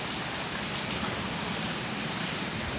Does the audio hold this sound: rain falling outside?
yes